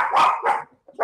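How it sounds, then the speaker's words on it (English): Small yappy dogs barking close by: two sharp, loud barks in quick succession, then a third bark just beginning after a short pause. "having yappy little dogs"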